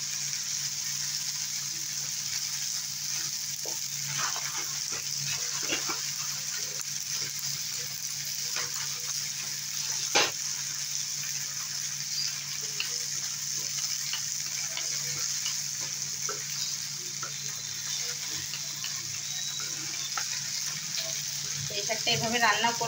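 Spinach and jackfruit seeds frying in a pan while being stirred constantly, a steady soft sizzle with scattered scraping clicks and clatter from the stirring, close and alone without talk.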